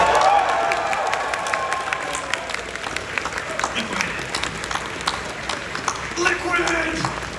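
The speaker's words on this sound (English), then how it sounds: "So let's give it up one more time for the always punctual Cam Clarke." An audience at a live Metal Gear Solid Q&A panel applauds and cheers, with the clapping and crowd noise filling the room while a speaker talks over it.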